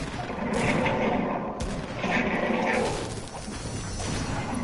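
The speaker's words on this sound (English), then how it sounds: "I'm getting shot at" Gunfire in the Fortnite battle royale game, a dense continuous clatter of shots with louder bursts near the start and midway, filling the whole stretch with no talk over it.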